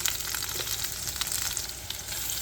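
Onions with dried red chillies and salt frying in a pan for tomato chutney, giving a steady, dense sizzle with crackling pops throughout, close and continuous with no talking.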